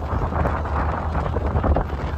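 Strong wind buffets a boat on rough seas, a steady roaring rush with heavy low rumble that blankets everything, no voices heard.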